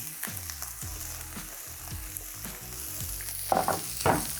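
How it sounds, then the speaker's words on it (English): Vegetables including carrot sizzle and crackle steadily in a hot pan, close by, with scraping stirs and a few louder spatters toward the end. "here I'm frying and obviously all the heat's coming from the bottom"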